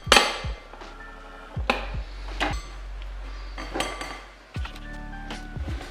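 An egg whisk works flour into a milk, corn oil and matcha batter in a bowl, making a series of sharp clinks and scrapes against the bowl at an irregular rhythm, close and fairly loud, with no talking.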